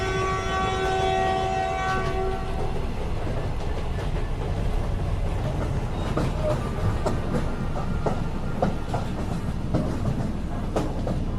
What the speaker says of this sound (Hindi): इन्हीं बातों के बीच ट्रेन बर्धमान जंक्शन पहुंच चुकी थी।